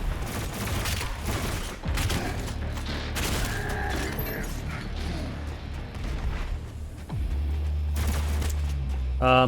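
Rapid gunfire and explosive blasts in Doom Eternal, dense bursts of shots and booms layered over heavy game action, with a voice speaking briefly.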